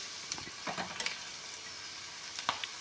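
Onions sautéing in a pan for poha, faint quiet sizzle with a few scattered stirring clinks and scrapes, close but low in level, no talk.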